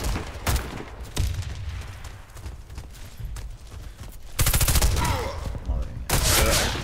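Gunfire in the online shooter Warface crackles in rapid bursts and single shots, with loud sustained automatic volleys toward the end, mixed with game effects.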